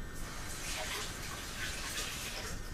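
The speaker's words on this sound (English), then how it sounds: "Let me just rinse this off here." A kitchen knife from a Fagor five-piece set is rinsed under running tap water, a steady close hiss of flowing water filling the whole moment without a break.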